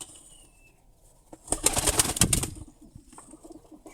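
Ornamental fancy pigeons at a bird keepers' spot give a brief burst of wing flapping and soft cooing, loud and close for about a second in the middle, with quieter rustling before and after.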